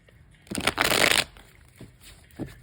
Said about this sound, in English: I will shuffle here just a few more times